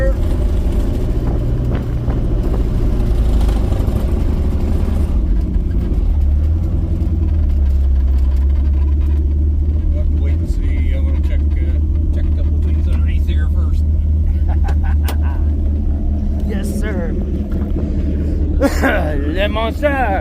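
A 1978 Datsun B210 drives in second gear, its engine a loud, continuous low rumble that grows heavier partway through, while people talk over it.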